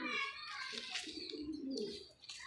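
Yellow Rollei flying pigeons coo in soft, repeated throaty calls close by, with a voice and other chatter faintly mixed in behind the birds.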